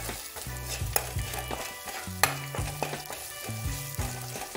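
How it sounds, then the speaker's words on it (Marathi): Turmeric, coriander powder, chilli powder and masala are stirred as they fry in a pan, giving a close crackling sizzle with repeated spoon scrapes and knocks against the metal. "आता हे चांगल्या प्रकारे मी मिक्स करून घेणार आहे।"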